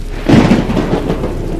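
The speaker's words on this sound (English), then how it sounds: "Thunder rumbled in the distance." A thunder rumble rolls through a rainstorm, with a low swelling boom over steady rain hiss.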